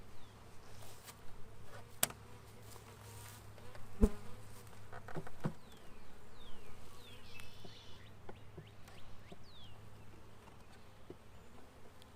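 Honeybees buzz around an open hive during an inspection, a faint steady hum with individual bees droning past the microphone and occasional light clicks of handling.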